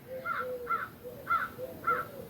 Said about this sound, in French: Voici un son de corneille.